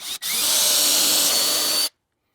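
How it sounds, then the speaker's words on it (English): A power drill with a 3/16 inch bit pre-drilling a hole for a lag screw whines steadily at close range for nearly two seconds after a brief blip, then stops abruptly. "Now you want to pre-drill for your lag screw."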